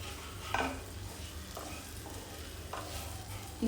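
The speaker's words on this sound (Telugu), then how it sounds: "సో అందుకని ఇలా సపరేట్గా ఫ్రై చేసుకోవడం బెటర్." An egg fries separately in a pan, giving a quiet, steady sizzle broken by a few light clinks and scrapes of a utensil against the pan.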